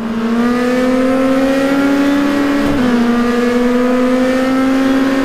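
A loud race car engine in the GTR2 racing game on the Dubai Club circuit holds a steady high pitch with the throttle held, dips briefly as if shifting, then carries on steady.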